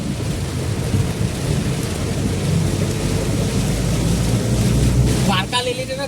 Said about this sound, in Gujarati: ગાડીમાં જ જઈને આવી રીતે મોસમ પડતો હોય વરસાદ પડતો હોય